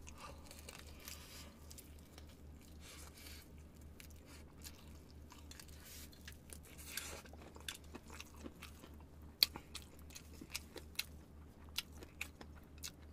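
Mouth-close chewing of BBQ Golden Olive fried chicken, with soft wet mastication followed by a run of sharp, crisp crunches and crackles from the fried coating over a low steady hum.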